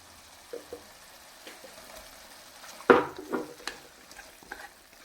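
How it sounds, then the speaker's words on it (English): Potatoes tipped into a simmering restaurant-style chicken vindaloo curry and stirred, with a soft splash and a short burst of sizzling and scraping mixed in among a few quiet clinks. "So now let's add our potatoes."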